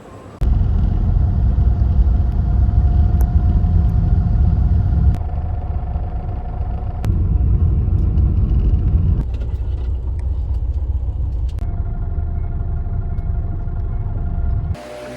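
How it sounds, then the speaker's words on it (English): Steady, loud engine rumble from inside a bus on an overnight trip in Vietnam, a continuous drone with low road noise and a few clicks and shifts, without speech. "We just came off the overnight bus."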